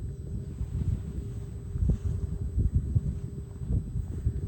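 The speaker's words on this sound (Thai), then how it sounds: "โอ้แบบนี้แหละลมพัดแบบนี้เย็นสบายเนาะ" Steady, low rumbling wind blowing across an outdoor microphone over rice fields in rural Laos, with gusty surges throughout and no voices.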